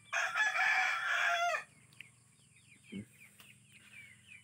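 A Japanese Shamo rooster lets out one loud, strained crow lasting about a second and a half, then quiet backyard with faint bird chirps and a soft thump.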